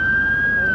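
An ambulance siren sounds on a city street near a train station, a loud, steady high-pitched wail held for under a second.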